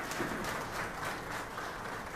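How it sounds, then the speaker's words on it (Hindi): An audience at a live program claps together, a soft, steady patter of many hands heard from a distance and holding at an even level throughout. "एक बार अपने लिए भी आप लोग जोर से ताली बजा दीजिए"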